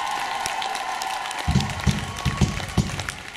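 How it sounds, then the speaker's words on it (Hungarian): An audience at a band concert in Berettyóújfalu applauds a band member, with scattered clapping swelling into louder bursts partway through against a droning stage hum. "Nagy tapsot neki, bíztató tapsokat."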